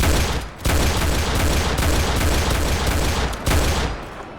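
Dense, nearly continuous gunfire in a Roblox CS:GO-style shooter, loud and close, with rapid shots blurring into a roar that drops out in two brief gaps.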